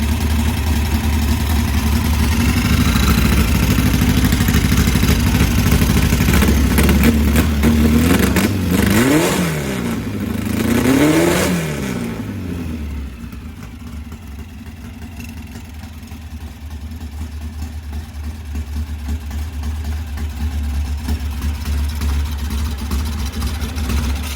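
A VW Type 1 1641cc engine with a Scat C35 cam and ported heads runs loud and close, swelling through a couple of revs before dropping to a lower, quieter idle as it runs out of fuel, then picking back up.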